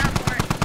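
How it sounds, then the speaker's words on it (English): Rapid automatic gunfire in the military shooter game Squad, about six sharp evenly spaced bursts in under a second, loud and close, continuing steadily throughout. "Just keep firing."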